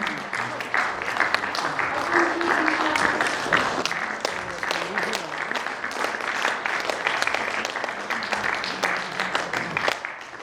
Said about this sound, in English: Let us give a big round of applause for the song.